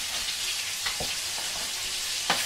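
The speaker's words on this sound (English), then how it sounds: "Pan's screaming hot and everything cooks really fast." Stir fry sizzling steadily in a very hot pan, a constant hiss of frying with a few brief clinks and scrapes from stirring, close and fairly quiet.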